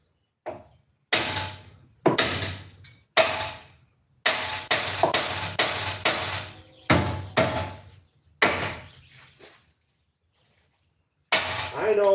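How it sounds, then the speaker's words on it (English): A hammer strikes repeatedly to knock a tie rod end free on an Infiniti M30 convertible's steering, about a dozen loud, sharp, close blows in uneven bursts with short pauses, no talking. "Now we use this to dislodge the tie rod on."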